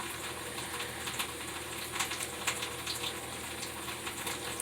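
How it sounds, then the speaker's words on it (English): Water runs from a tap in a home, a steady hissing flow with soft irregular splashes continuing throughout, alone without talk. "That's my water running still."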